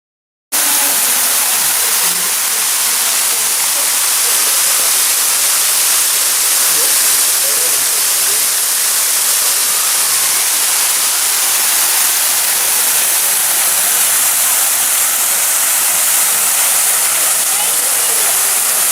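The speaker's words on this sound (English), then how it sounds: "he stood under a waterfall. Water fell nearly 90 feet from the rocks above" Waterfall plunging nearly 90 feet from rocks above, a steady, loud, broadband roar of falling water that fills the scene without pause.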